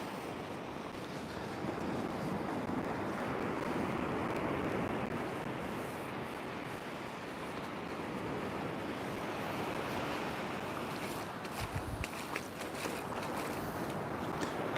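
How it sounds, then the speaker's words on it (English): Splashing footsteps wading across a shallow gully on a North Norfolk beach at Bacton while sea fishing, steady and close amid a continuous wash of surf and wind noise, with no talking. "Could probably hear me splashing through it, I reckon."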